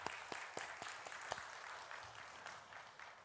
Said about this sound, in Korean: 우리 한번 하나님께 감사 박수 할까요?